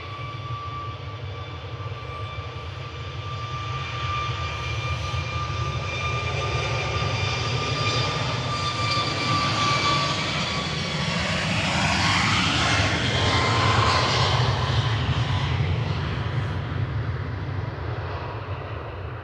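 Jet airliner engines at Manchester Airport, a loud steady roar with a whining tone that swells and sweeps past over about nineteen seconds, with no talk over it.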